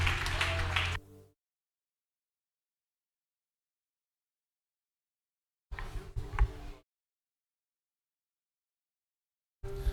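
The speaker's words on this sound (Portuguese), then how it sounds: "Aplauda ao Senhor com o seu melhor, aplauda com o seu melhor" A church congregation clapping during a worship service, two or three short bursts of applause separated by long stretches of silence, moderately loud and not far off.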